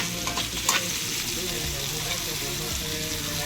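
Curry leaves stirred and fried in a pan for a Konkani sukhi kolim (dried shrimp) dish, giving a steady close sizzle with scraping stir strokes throughout, no talking.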